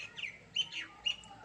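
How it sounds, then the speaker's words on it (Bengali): Small birds outside a window give a few quick, bright chirps in a short series, close and clear over quiet background. "বাইরের পাখির আওয়াজগুলো?"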